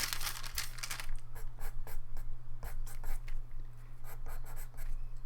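Pastel pencils scratch across paper as areas of a wildlife drawing are darkened and textured: close, steady, dry strokes in quick repeated bursts over a low constant hum.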